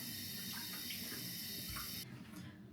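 Water runs steadily from a tap during handwashing, a continuous hiss and splash at close range that cuts off abruptly near the end, with no voices.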